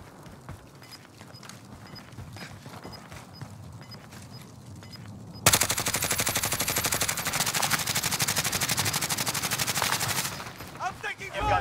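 Automatic gunfire in the video game Call of Duty: Modern Warfare, starting abruptly after quieter ambience and continuing as a loud rapid stream of shots for about five seconds before tapering off.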